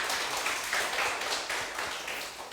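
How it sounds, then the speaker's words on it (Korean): An indoor audience at a citizen academy lecture applauds to welcome a professor. The dense, steady clapping of a sizeable crowd lasts a few seconds without pause. "박수로 맞아주시기 바랍니다."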